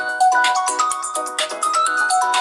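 A smartphone rings out a loud, continuous melodic ringtone of repeating bright tonal phrases, set off remotely by the phone-finder function on a Haylou S6 smartwatch, with no voices.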